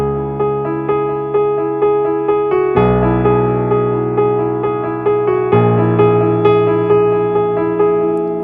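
Solo piano playing a passage, clear repeated notes in a steady pulse over sustained low bass notes that change twice, close and fairly loud with no talking.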